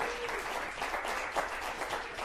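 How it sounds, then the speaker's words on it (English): An audience claps steadily and loudly throughout, a dense continuous round of applause with no voices standing out. "Let's give Hannah a big round of applause as she comes up here."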